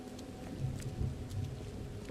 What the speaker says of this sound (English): Rain, how very fitting.